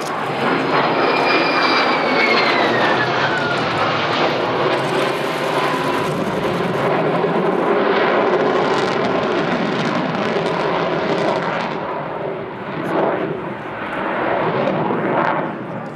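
A Su-27P1M Flanker jet fighter roars through a flying display at the RIAT airshow, a loud, sustained engine rush that swells and slowly fades with a falling whine as it passes.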